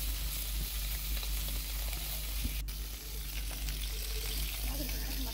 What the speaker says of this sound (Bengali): ফলি মাছগুলোকে এখন এই তো দেখতে পাচ্ছেন উল্টে পাল্টে ভেজে নিয়েছি